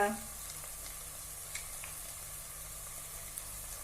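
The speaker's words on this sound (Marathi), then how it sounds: "आता हे सगळे मसाले पण एकत्र करून एक दोनच मिनिटं आपण परतून घेऊया" Cumin powder, coriander powder, red chili powder and black spice mix sauté in a pan, giving a faint, steady sizzle with a few small crackles and no talking.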